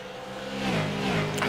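Super late model race cars on a dirt track, engines roaring and rising in pitch as a bunched pack drives past, steady and moderately loud with no voices.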